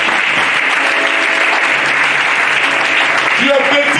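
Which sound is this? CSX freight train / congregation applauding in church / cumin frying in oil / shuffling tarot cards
congregation applauding in church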